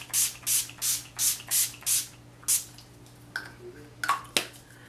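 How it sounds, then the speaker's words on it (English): Quick bursts of a setting spray spritzed over a finished makeup look, about six sharp hissing puffs in a steady rhythm, then a few softer, scattered sprays and taps, close and fairly quiet with no talking. "We are going to give it a good old spritz of my all-nighter"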